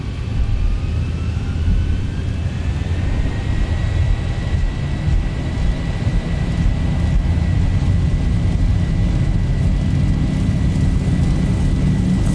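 Boeing 737-800 jet engines spool up and roar steadily through a takeoff roll in the X-Plane 11 flight simulator, a loud continuous rumble with a rising whine that holds throughout, no talking.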